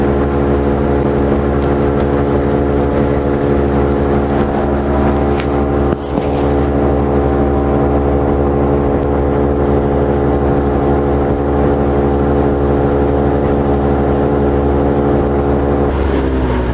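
A steady 2022 Mercury 60 hp outboard engine on a Starcraft boat drones at a constant pitch throughout, with water and wind noise over it and a brief dip midway.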